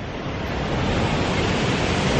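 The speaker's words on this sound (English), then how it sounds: "Little cove, water splashing up." Water splashes and washes in a small cove, a steady, dense rushing surf noise close by with no voices.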